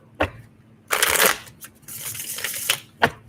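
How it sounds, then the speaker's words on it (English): Tarot cards being shuffled by hand close up: quick riffling bursts and brisk ruffles separated by short pauses and sharp taps, crisp and near, with no talking. "One more shuffle."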